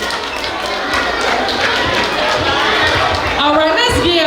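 An audience at a school Black History program applauds continuously, with scattered cheering and crowd noise, fairly loud throughout.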